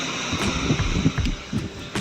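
Big sea waves roll in at the coast under strong wind, a constant roaring wash with gusts buffeting close to the microphone and no voices.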